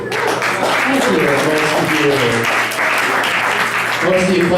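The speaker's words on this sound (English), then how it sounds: "Thank you for clapping, though." A comedy show audience applauds, a sustained wash of clapping over several seconds with a voice speaking on top of it.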